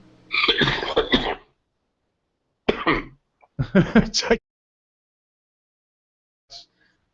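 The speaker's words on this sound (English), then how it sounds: "The cough." Three separate bouts of harsh, close coughing broken by stretches of silence, with a faint short sound near the end.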